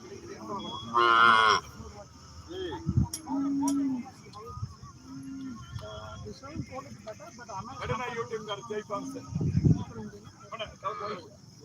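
Cattle moo loudly at a busy open-air livestock market in Kannapuram, with a few long bellows rising over steady crowd chatter and nearby voices.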